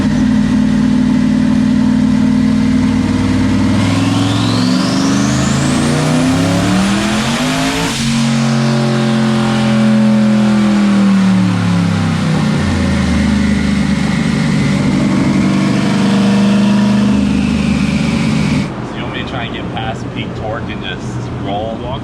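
A turbocharged car engine on a dyno revs hard at full load, its roar climbing and sweeping upward before dropping back and rising again, with a turbo whine on top, then settling to a lower drone near the end; people talk beneath it.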